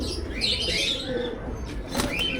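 Pigeons kept for sale by a breeder, with soft cooing and possible wing flutters against a steady, noisy background that holds no speech.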